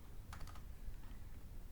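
A brief burst of computer keyboard keystrokes while entering a SUM formula in an Excel spreadsheet, a few quick clicks near the start and then faint scattered taps over a low hum, quiet and close.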